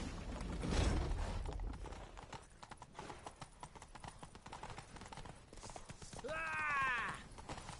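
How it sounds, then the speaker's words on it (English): Horse hooves clatter at a gallop in The Witcher 3, a rapid rhythmic clip-clop that starts loud and thins out, with a horse whinny near the end. "Grab a horse to the temple!"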